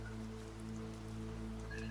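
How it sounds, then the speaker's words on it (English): Rain falls steadily and softly, a faint continuous patter with a low steady hum beneath it and no voices. "Excited to see the rain as it comes."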